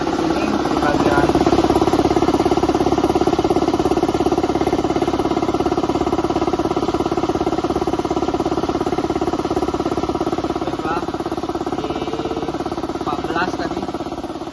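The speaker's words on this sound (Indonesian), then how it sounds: "Pertama, kita hidupkan dulu kompresornya." An air compressor running steadily, a loud continuous mechanical drone with a rapid vibrating pulse that holds at an even level throughout, with no voices.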